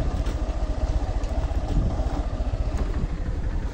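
A small auto-rickshaw engine labours uphill in second gear near Baropkunda, Sitakunda, a steady, throbbing low drone that stays loud and close throughout, with no voices over it.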